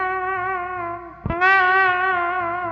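A Fender Telecaster electric guitar rings out a sustained, smooth tone shaped by its tone knob, with a brief pick attack midway before the note swells brighter and carries on, clear and close with no talk.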